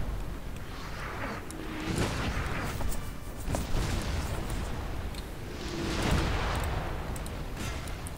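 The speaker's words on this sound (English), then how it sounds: "Oh, that artillery. So beautiful." Artillery cannon fire in the Napoleon Total War video game, with repeated heavy booms and rumbling blasts spread across the battle, some near and some distant, under a steady battlefield din.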